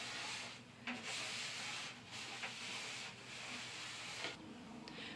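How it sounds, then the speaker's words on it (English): A cloth wipes back and forth across the grooves of an old 1980s wooden entertainment center, soft repeated rubbing strokes in an even rhythm, quiet and close with no talking. "So I'm wiping across the grooves."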